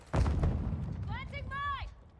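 A Semtex grenade goes off in a Call of Duty game, a single close, heavy boom at the start that rolls off into a rumbling tail, with a brief voice-like tonal call over the decay.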